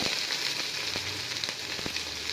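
Mustard seeds, onion, garlic and curry leaves fry in hot oil for a tomato kuzhambu, giving a steady close sizzle with a few sharp pops and crackles and no voices.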